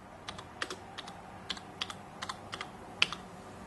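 Keystrokes on a computer keyboard while entering text into embroidery design software for a ZSK industrial embroidery machine; irregular, fairly close taps in short clusters, with one sharper louder key near the end, no voices.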